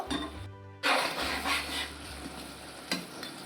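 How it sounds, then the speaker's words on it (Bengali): Spatula stirring chilli paneer in bubbling sauce, a brief clatter followed by soft scraping over a constant simmering hiss and a low hum, close with no voices. "এবার খুন্তি দিয়ে একটু নাড়িয়ে চাড়িয়ে দেব।"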